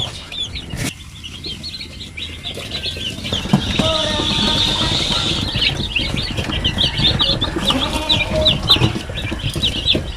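Seventy day-old Magnolia Class A broiler chicks peep steadily as a busy, high-pitched chorus throughout, close by, with someone talking at times and some rustling.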